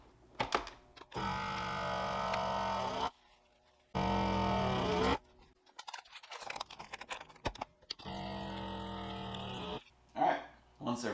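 A vacuum sealer runs in two loud, steady bursts of motor hum lasting a second or two each, sealing bags of raw bacon for curing, then a third run after a stretch of clicks and handling noises.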